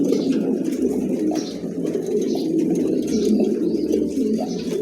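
Pigeons coo continuously in a dense, low rumbling chorus, close and steady throughout, with faint chirps mixed in.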